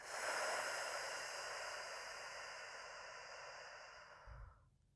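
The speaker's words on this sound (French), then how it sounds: "expirer par la bouche en rapprochant nos côtes" A single long, breathy exhale through the mouth during a gentle Pilates breathing exercise, loud at first and then slowly fading away over several seconds, close to the microphone with no talking.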